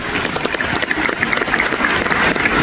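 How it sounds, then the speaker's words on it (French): An audience at an investment talk applauds a moderator named Christelle, a lively close burst of many hands clapping steadily. "On peut applaudir pour Christelle, elle vient des Pays-Bas."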